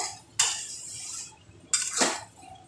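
Spice paste with pumpkin being stirred and sautéed in a pan, heard as two clear bursts of utensil scraping and clinking against the metal, each trailing off, with quiet gaps between.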